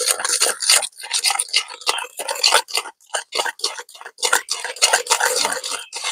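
A spoon stirs sugar and grated coconut together in a bowl for a palm sweet, making steady, close scraping and rubbing strokes in a quick repeating rhythm with no talk.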